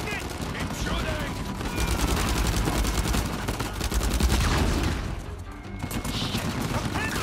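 Sustained gunfire from rifles and automatic weapons in an Uncharted 4 firefight, dense bursts of shots continuing throughout, with voices calling out over the shooting.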